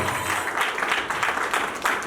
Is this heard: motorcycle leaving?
no